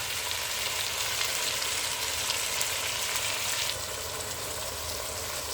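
Onions frying in a pan for a white cabbage dish, giving a loud steady sizzle that fills the whole stretch and eases slightly partway through, with no speech over it.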